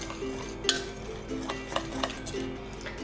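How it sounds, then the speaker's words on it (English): Cheesecake batter mixed with flour in a bowl, a utensil scraping and clinking against the sides in a steady, close stirring rhythm with a few sharper taps. "And give it a nice mix."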